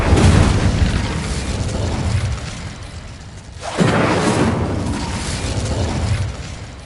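Incendio fire spell cast in Hogwarts Legacy, heard as a loud, rushing burst of flame and boom, fading briefly and then erupting again in a second whooshing blast partway through.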